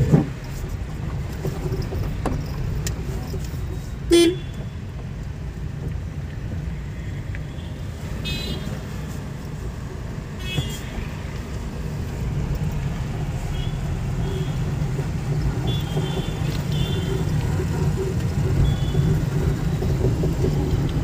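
A car drives along in second gear during a driving lesson, with a steady low engine and road rumble and light wind noise inside the cabin, plus a few faint clicks.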